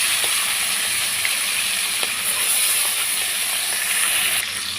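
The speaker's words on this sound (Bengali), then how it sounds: "তেলটা গরম হয়ে গেছে, আমি মাছগুলো দিয়ে দিচ্ছি।" Small hilsa fish frying in hot oil, a constant broad hissing sizzle with a few faint pops, moderately loud and even for about five seconds, no voices.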